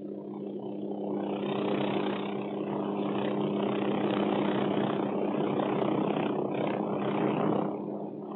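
A Hughes OH-6 Cayuse helicopter hovering during practice maneuvers gives a continuous, even turbine and rotor drone with a low throbbing hum, moderately loud and unbroken for several seconds.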